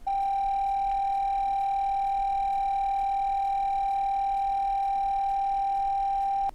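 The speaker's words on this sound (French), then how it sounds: "voici la tonalité distorsionnée" A continuous test tone with a harsh, buzzy edge from added overtones, held at one steady pitch and level throughout.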